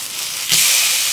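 Food sizzling loudly in a hot pan just after being flipped, a close bright hiss that swells suddenly midway and then holds steady.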